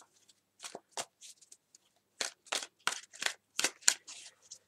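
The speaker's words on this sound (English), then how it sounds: "I'm just going to start by shuffling the cards now" Close, crisp riffling and slapping of a deck of tarot cards being shuffled in quick bursts, with short pauses between sets in an otherwise quiet room.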